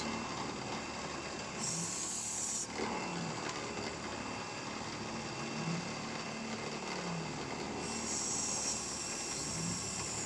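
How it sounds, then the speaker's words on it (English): Small benchtop CNC mill with ball screws making a climb cut, a steady close machining drone with periodic shifts in pitch and a high whine switching on and off. "considering we're doing a climb cut, you can see that the machine is rigid enough with the ball screws to do an exceptionally good cut"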